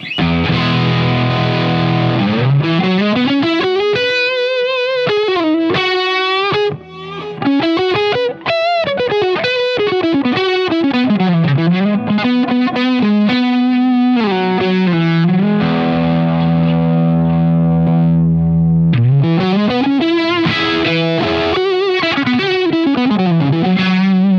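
Electric guitar through a pedalboard with a Nobles overdrive stacked with another drive: sustained, distorted melodic lines with bends and slides, played alone and up close, steady and loud throughout with a short dip midway.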